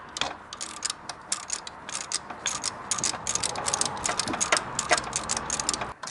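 A ratchet wrench works a 12mm nut loose on a Honda Integra B-series engine, giving a dense run of quick metallic clicks that carries on steadily and fairly close for several seconds with no talk.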